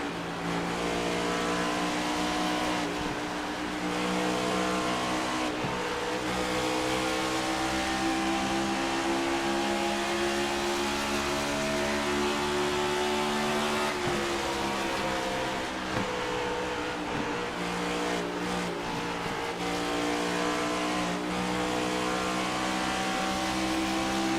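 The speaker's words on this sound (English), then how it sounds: "Hear how much he's playing with the throttle." A NASCAR Cup Series race car engine roars continuously from onboard at Homestead-Miami Speedway, pitch swelling and dipping as the throttle is blipped and eased, loud and sustained.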